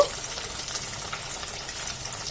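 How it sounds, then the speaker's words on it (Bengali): Katla fish pieces frying in mustard oil, a continuous close sizzle and crackle that stays even and fairly loud, with no speech over it. "এইভাবে আমি সব মাছগুলো ভেজে নেব।"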